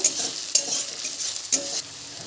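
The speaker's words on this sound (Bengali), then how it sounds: "সমস্ত উপকরণগুলো একটু হালকা করে ভেজে নেব" Onions and chilies sizzle steadily in hot oil, with a few sharp stirring scrapes breaking through the constant frying hiss.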